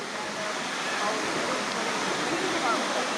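Steady broadband rush of a waterfall in Maui, a constant roar of falling water that stays even and fairly close throughout, with no talk over it.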